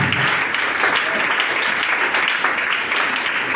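A church congregation applauds during a worship service, a dense, steady roar of clapping from many hands that fills the space throughout.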